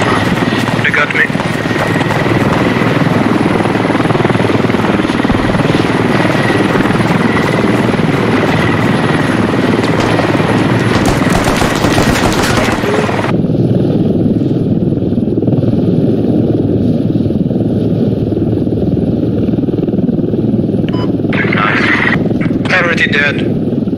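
A military helicopter in the video game Squad drones loudly with a steady rotor and engine roar that runs continuously, then shifts and thins partway through amid other game noise.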